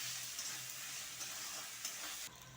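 Ginger-garlic paste being stirred as it fries in a pan: a steady close sizzle with soft repeated scraping strokes of the spatula, continuous and alone.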